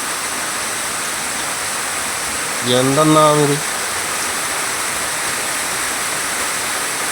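Rainwater rushes steadily down from the hillside through a yard during heavy rain, a loud continuous broadband roar that runs unbroken throughout, with a brief spoken remark rising over it near the middle.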